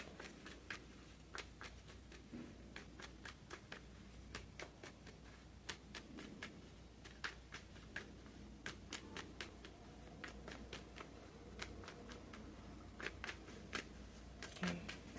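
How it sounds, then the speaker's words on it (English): Tarot cards being shuffled by hand, a long run of crisp, quiet riffling clicks and flicks at an uneven rhythm over a faint background hum. "Sorry, I'm just shuffling."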